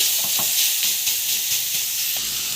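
Ingredients sautéing in a pan for a simple breakfast recipe, with a steady close hissing sizzle and a few soft stirring scrapes throughout.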